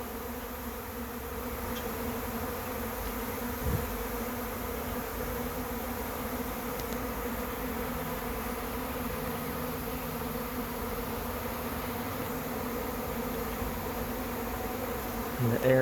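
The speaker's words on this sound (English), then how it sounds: "Looks like it's actually a decent sized swarm." A honey bee swarm moving into a trap fills the air with a dense, steady buzzing hum, close and unbroken, with a few louder individual bees passing near.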